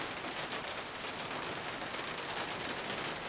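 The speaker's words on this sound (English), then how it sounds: "Now it's starting to rain" Rain begins falling on a garden, giving a dense, even hiss of drops that stays constant throughout, moderately quiet and heard alone without speech.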